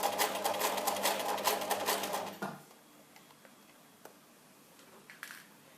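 Sewing machine stitching a dart in fabric: a fast, steady mechanical chatter for about two seconds that then stops, leaving quiet room tone with a few faint clicks.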